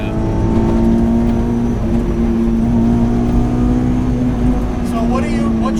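Supercharged 385 whp Honda S2000 track car engine droning loud and steady from inside the car at high revs, a smooth sustained tone holding near the limiter.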